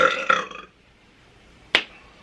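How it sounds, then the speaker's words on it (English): A single short, loud burp stands out near the end, after a brief burst of voice-like sound and a quiet pause. "I think maybe I burp when I'm nervous."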